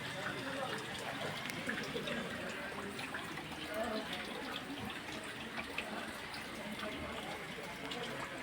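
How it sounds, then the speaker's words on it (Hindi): Water trickles steadily from a cow-mouth spout into a rain-soaked temple kund, a faint, continuous outdoor flow with soft background murmur throughout. "यहाँ पर गाय का मुख बना हुआ है, इसमें से पानी दे रहा है"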